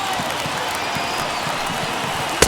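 Stadium crowd of about 25,000 at an MLB The Show 21 simulated Royals at A's game rising to its feet, a steady wash of cheering and applause under a sharp crack at the end.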